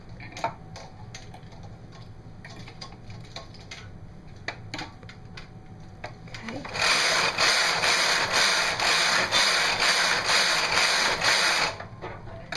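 A Brother KH270 bulky knitting machine knits slip stitch: a loud, steady rasping carriage sweep runs for about five seconds after several quieter mechanical clicks and taps, with no talk.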